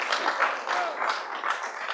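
An audience at a literature festival poetry gathering claps in a series of rhythmic bursts of applause, moderately loud and steady throughout.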